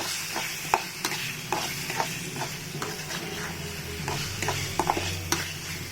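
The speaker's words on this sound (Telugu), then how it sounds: "మనము నూనెలో వేయించి పెట్టుకున్న రొయ్యల్ని వేయాలి. వేసి కలబెట్టాలి." Fried prawns stirred into hot oil in a pan, with a steady sizzle and crackle under repeated scraping and stirring strokes throughout, close and alone.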